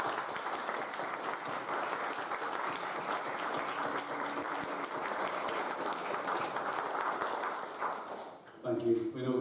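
Church congregation at a candlelit carol service breaks into sustained, even applause for several seconds that fades out near the end, followed by a voice beginning to speak.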